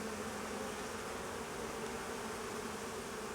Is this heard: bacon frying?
no